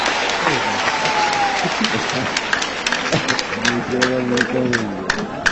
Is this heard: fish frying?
no